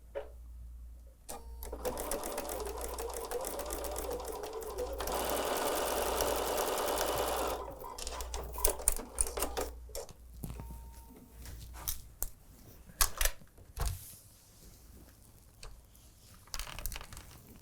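A sewing machine stitches a quilt block seam, its motor whirring in a fast steady rhythm for several seconds, then stopping and starting in short bursts mixed with fabric handling and clicks.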